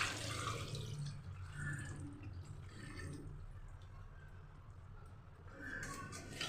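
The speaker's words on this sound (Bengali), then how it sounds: "এইবার আমি এখানে এই দুধটা ঢেলে দিচ্ছি," Coconut milk pours into a pan of chicken curry cooked with tomato and Kashmiri chili, a soft liquid splashing and gurgling that is fairly faint and close, with no talking.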